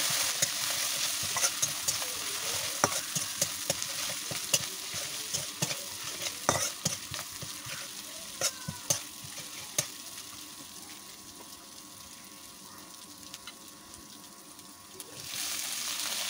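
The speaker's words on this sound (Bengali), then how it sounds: "এখন সব মশলাটা আমি বেশ ভালো করে কষিয়ে নেব।" Ginger, garlic and cumin paste with salt, chili powder and chili paste sizzles in oil as it is stirred and sautéed, a continuous close frying hiss broken by scraping utensil strokes, with a brief louder splash near the end.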